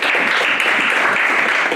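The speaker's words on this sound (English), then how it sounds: "can we clap our hands to the word of the Lord?" A church congregation at a homegroup service claps hands in a dense, continuous burst, loud and close, with no pauses across the short stretch.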